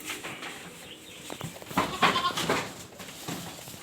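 Goats on a farm bleat at night while feeding, with a couple of wavering calls rising over soft background rustling and a quiet outdoor ambience.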